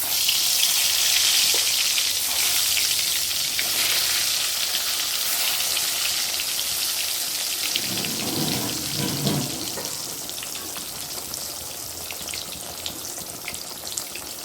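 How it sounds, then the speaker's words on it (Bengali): Eggplant fries in white oil with a steady, moderate sizzle and hiss that continues without a break, while faint watery clatter and splashing come and go in the background. "এদিকে বেগুনটা ভাজা হচ্ছে"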